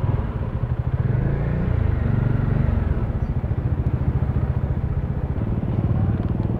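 A big motorcycle engine runs close by with a steady, throbbing putter and a faint mechanical clatter, holding an even idle throughout with no talk.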